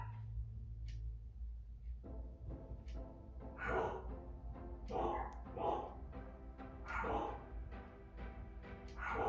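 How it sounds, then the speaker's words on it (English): Several dogs bark indoors in repeated bursts, fairly faint and somewhat distant, over a low background hum. "my dogs are barking"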